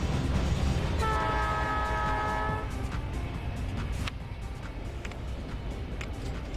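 Train in the game Chris Sawyer's Locomotion blows a chord horn for about a second and a half over steady rumbling rail noise, then rolls on with clacking wheels as the sound gradually eases.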